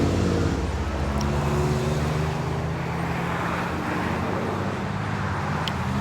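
Steady, loud road traffic drones on a busy roadway beside a car dealership lot in Madison, Ohio, with cars passing by and an engine revving, a continuous wash of noise with no break for the full length.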